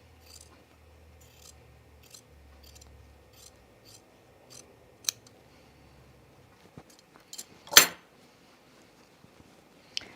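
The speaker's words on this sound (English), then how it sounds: "I have this little extra hanging out, so let's just trim that off" Scissors trim a small excess of fabric at the ruffle seam of a Sophie dress, giving a series of soft, close snips and rubs followed by one sharp, louder clink near the end, with no talking.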